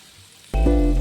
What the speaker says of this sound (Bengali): এবার গ্যাসের ফ্লেম মিডিয়ামে রেখে 3 থেকে 5 মিনিট সময় ধরে গাজরটাকে ভালো করে ভেজে নেব।